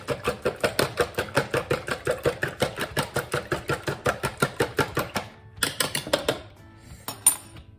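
Quiche filling being mixed in a bowl, a fast, regular series of clacking strokes that briefly pauses, then resumes in short, uneven bursts before stopping.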